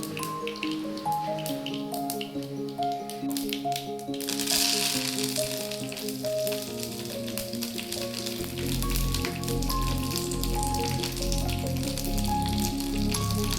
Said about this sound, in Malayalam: ശേഷം നമ്മൾ കുറച്ച് കടുക് ഇട്ട് കൊടുക്കുക.